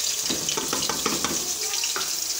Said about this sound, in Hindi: मैं ये डालती हूँ प्याज पहले